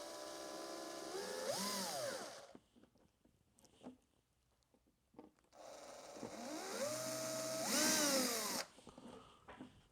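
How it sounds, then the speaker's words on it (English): A power drill whirs up twice in separate bursts, drilling holes for hinges on a radio-controlled model door, its pitch rising and dipping as it bites into material, with quiet pauses between. "Drill our holes."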